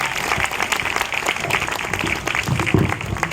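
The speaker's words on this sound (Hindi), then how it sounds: "तालियों से स्वागत किया हमारे सारे कलाकारों का" Audience applause welcoming the performers of a devotional stage drama at a Hare Krishna gathering, a dense, steady wash of clapping from a sizable crowd lasting throughout, loud and close with a few sharper claps near the end.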